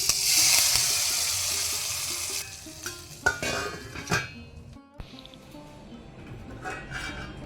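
Curry leaves hit hot oil in a tempering for Mangalorean mango curry, giving a loud opening sizzle that settles into steady frying crackle with a few clinks and stirring scrapes against the pan.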